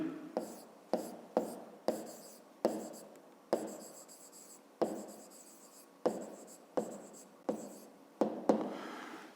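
A pen writes a math exercise on paper in a run of separate strokes, each a short scratchy burst starting sharply and fading, close and clear, with no talk.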